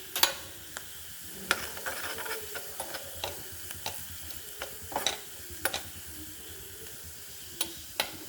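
Shallots and spice powder frying and being stirred in a pan, with a soft steady sizzle broken by repeated sharp scrapes and clinks of the spoon, close and fairly quiet with no talking.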